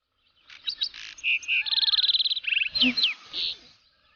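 Small birds chirp and trill in a quick sequence of short calls and a rapid warbling run, fairly close and clear against a quiet background.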